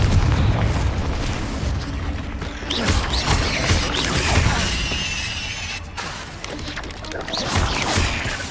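A Confringo spell explosion in the video game Hogwarts Legacy on PS5: a loud, dense boom with crackling, shattering debris and mechanical rumble that rolls on for several seconds before a second surge near the end.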